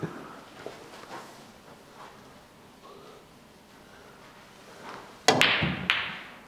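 A pool cue strikes the balls on a pool table during a league match: a quiet stretch ends in a sharp, close crack of a powerful shot, then another click of ball contact shortly after.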